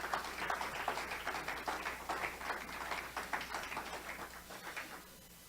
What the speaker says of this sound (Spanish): Puede darle un aplauso al Señor.